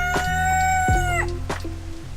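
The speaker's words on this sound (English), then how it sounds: "So here's some more footage of chickens." A rooster crows loudly and close, a long harmonic call, while other chickens cluck briefly in the background.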